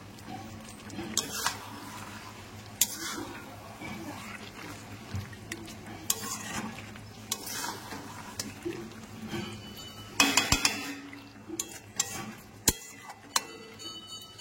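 Meat coated in spices being stirred in a pot over medium heat for a milk-based curry, giving scattered scrapes and metallic clinks of the spoon against the pot, with a few sharper knocks near the end.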